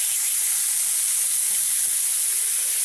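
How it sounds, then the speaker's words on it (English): Chicken sizzling loudly in a hot pan, a dense continuous hiss of frying heard close up and alone. "my pan is nice and hot, so I'm going to go ahead and put my chicken in there"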